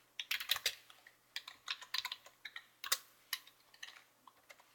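Commands typed on a computer keyboard: quick, close bursts of crisp key clacks in uneven clusters, with short pauses between words and no voice.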